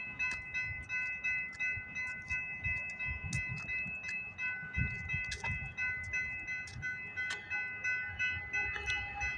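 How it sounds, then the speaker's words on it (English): CPKC eastbound freight train passing on the line near Milton, Ontario before dawn, a faint rolling rumble with steady wheel clatter and some distant tonal squeal, heard from a distance with no talking. "CPKC eastbound train coming down the line."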